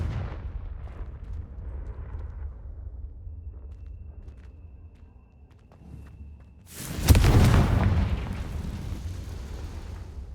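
A Confringo fire spell explodes in the video game Hogwarts Legacy, a sudden loud blast with a deep rumbling burst that fades over a couple of seconds, following a stretch of low ambient game sound.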